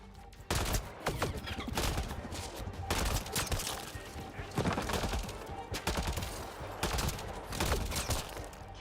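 Repeated turret fire in the sci-fi shooter Mass Effect: Andromeda, with fairly quiet overlapping bursts and sharp cracks at irregular intervals that keep going steadily throughout.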